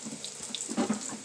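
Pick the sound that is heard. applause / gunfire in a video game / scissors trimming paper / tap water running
tap water running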